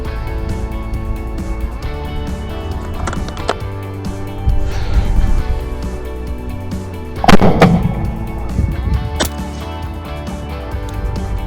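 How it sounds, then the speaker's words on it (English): A shotgun with a full choke fires 28 gram, 1300 feet-per-second European number 7.5 shot shells at 20 meters. About three sharp reports are spaced several seconds apart over a steady, tonal background. "let me show you how this shotgun shoots at 20 meters"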